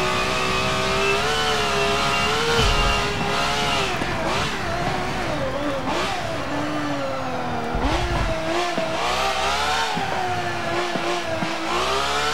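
A Ferrari race car in the Forza Motorsport 7 racing game roars loudly and continuously, its engine pitch climbing and dropping through gear changes and revs, with occasional tire squeal and no talk.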